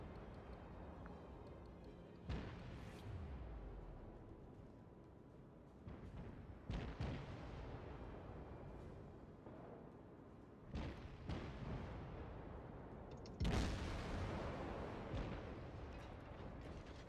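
Several heavy, booming naval gun shots from the World of Warships video game ring out at intervals over a quiet low drone, each sharp blast followed by a short rumbling decay.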